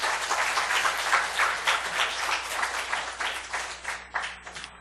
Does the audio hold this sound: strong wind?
no